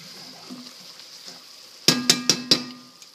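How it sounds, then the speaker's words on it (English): A spoon stirs beef stew ingredients in a cooking pot, with soft scraping followed by four sharp metallic clinks against the pot's side, close and clear, no talking. "You're just going to stir this around, and I'm actually going to let this cook in the juice for a little while"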